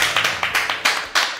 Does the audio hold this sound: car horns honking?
no